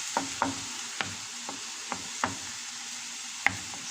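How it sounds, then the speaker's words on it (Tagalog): Broccoli with pork fizzes and sizzles in a pan as baking soda reacts after water is added, a steady hiss broken by a few sharp utensil clicks against the pan. "Bubula yan siya guys. Ibig sabihin nagre-react na yung baking soda dyan."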